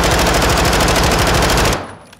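Rapid automatic gunfire from a weapon in the Modern Warfare 2 / Warzone 2 firing range, a loud continuous burst of evenly spaced shots that stops abruptly near the end.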